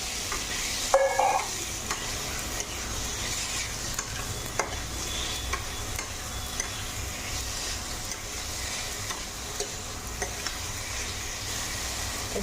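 Boiled potatoes stirred into a frying masala in a pan for a potato egg omelette curry, a soft continuous sizzle with scraping stir strokes and a few clinks, close and fairly quiet, no voices.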